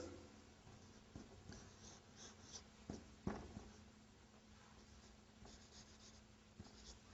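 Quiet scratching of writing on a board in Arabic lessons, faint strokes with a few sharper taps against a soft background hiss.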